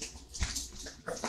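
A dog just woken from a nap whimpers in short, thin yips and whines, faint and close in a quiet room, with a soft thump in between.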